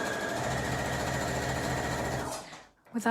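A sewing machine runs fast and steady, stitching a short seam on an Easter bunny bag, its rapid mechanical whir holding for two seconds before stopping, followed by a brief soft handling noise.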